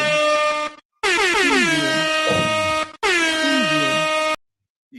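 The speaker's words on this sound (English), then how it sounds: "Yo, I gotta hit the air horn." A loud air horn blown in three long blasts separated by brief pauses, brassy and piercing, with a faint voice under the middle blast.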